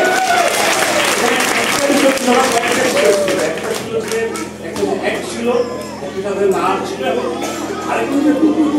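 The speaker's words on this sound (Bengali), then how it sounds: "আপনাদের সবাই এই ধরনের আশীর্বাদ জোরে একটা করতালি হবে, জোরে" Loud audience applause in front of a Durga Puja pavilion in Portugal after a Durga drama performance: thick, continuous clapping, with voices calling and chattering throughout.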